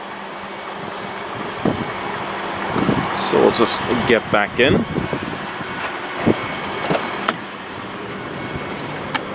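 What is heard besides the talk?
2017 Toyota Prius running on its petrol engine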